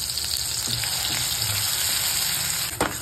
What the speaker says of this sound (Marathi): हा सगळा मसाला वाटलेला आहे ना, तो काढून घ्यायचा आणि चांगला परतून घ्यायचा मस्त